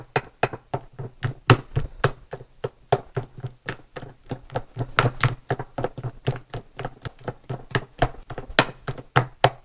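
Gnocchi dough being worked by hand on a surface, giving a steady run of sharp slaps, pats and knocks at an uneven quick rhythm, close and fairly loud, with no voices.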